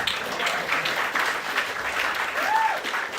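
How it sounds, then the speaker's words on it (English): A comedy club audience claps in a steady round of applause at a stand-up roast show, dense and sustained throughout, with a faint voice or whoop rising briefly near the end. "How about a round of applause?"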